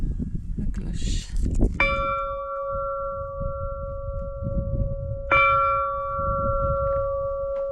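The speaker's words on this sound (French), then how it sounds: "Et on a aussi la cloche." A bell at an abandoned church in Crete strikes twice, each clear ringing tone hanging and slowly decaying, over a steady low rumble of outdoor background noise.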